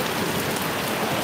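Steady, dense rain pattering on surfaces, a continuous hiss close around, with no voices.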